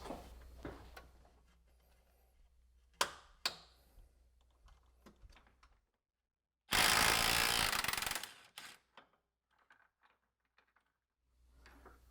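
A ratchet wrench tightens a subframe locating pin on an MK8 GTI during a front sway bar install at home. It gives a few quiet, close clicking bursts, then one louder ratcheting run lasting about two seconds, followed by scattered faint clicks.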